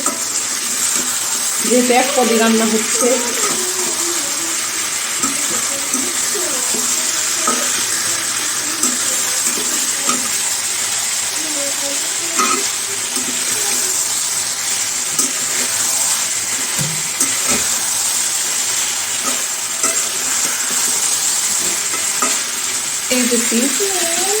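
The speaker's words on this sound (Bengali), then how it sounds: "ভেজে রাখা চিকেনটা তো মশলার সাথে এখন ভালোভাবে কষাবো" Pre-fried chicken stir-fried with spices in a pan, a steady close sizzle with scraping stirring strokes throughout, and a faint trickle of water in the background.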